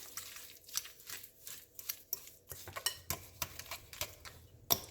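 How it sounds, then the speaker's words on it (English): A utensil scrapes and clinks against a bowl while softened butter, sugar and egg are creamed together, quick irregular taps and stirring strokes, fairly quiet and close, with no talking. "cream together the softened butter, sugar, and make sure that you combine the egg well"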